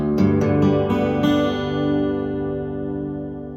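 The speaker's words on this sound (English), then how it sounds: "And all together, open, that makes an open G" Slack key guitar in open G tuning, its open strings strummed together in a few quick strokes and then left to ring out, a warm sustained chord fading slowly, played close and alone.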